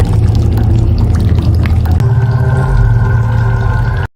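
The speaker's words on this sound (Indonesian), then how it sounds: "Di kamar mandi, Rosa yang sedang menunggu temannya tiba-tiba mendengar suara air mengalir." Water running from an open bathroom tap, a loud, steady close-up pour that continues unbroken before cutting off abruptly at the end.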